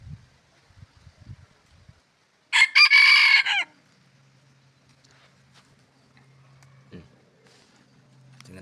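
A wild junglefowl (labuyo) crows once, a loud clear call of about one second. It follows a few faint clucks, and afterwards there is a low steady hum with scattered soft rustles.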